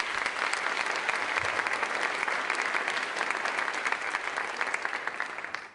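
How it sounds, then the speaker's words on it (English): Audience applause at a 2019 State of the City address in Little Rock, Arkansas: a sustained, even wash of many hands clapping at moderate distance, fading slightly at the end, with no talk over it. "Let's give them another round of applause."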